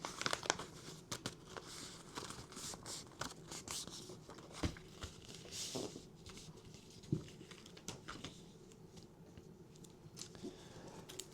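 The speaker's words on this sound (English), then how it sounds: "I'm going to fold up the packing slip" Paper packing slip being folded, a run of close crinkles, creases and soft pats at an irregular pace, fairly quiet with no voices.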